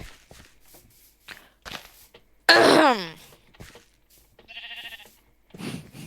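A blocky sheep bleats once loudly in the middle of a Minecraft session, surrounded by soft clicks, footsteps and a short synthetic tone near the end.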